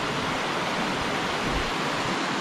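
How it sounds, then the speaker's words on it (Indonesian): Steady, broadband rush of a river flowing at a campsite in Serendah, Malaysia, close and continuous with no pauses, no voices over it. "ditemani oleh bunyi sungai dekat sini"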